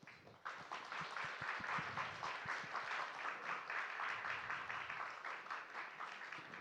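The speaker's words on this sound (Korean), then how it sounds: "우리 교수님 나오실 때 박수로 환영해 주시면 좋겠습니다" An audience at a parents' education session claps steadily to welcome a professor lecturer, with a dense, even wash of applause that swells quickly after a brief pause and holds throughout.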